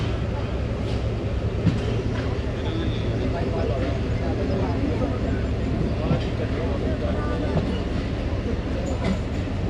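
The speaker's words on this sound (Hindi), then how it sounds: "coat Radha Kishan railway station से डिपार्चर हो गया टू टाउन खैबर मेल का" Khyber Mail passenger train departing Kot Radha Kishan railway station in Pakistan, a steady loud rumble of rolling rail cars with faint wheel clatter throughout, close by, with a voice speaking over it.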